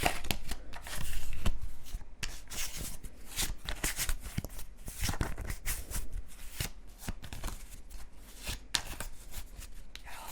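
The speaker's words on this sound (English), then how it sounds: "you're going to take the other cards and you're going to shuffle them" Cards for the board game 7 Wonders being shuffled over and over, a rapid papery riffling and flicking in quick bursts, close and fairly loud, with no talking.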